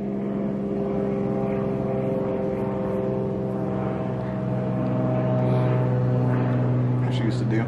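Steady low propeller-aircraft drone with engine hum, growing slightly louder toward the end, while people talk over it.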